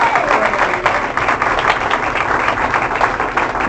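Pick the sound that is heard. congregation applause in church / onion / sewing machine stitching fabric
congregation applause in church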